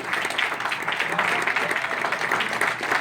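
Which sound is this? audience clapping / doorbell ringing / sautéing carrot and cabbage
audience clapping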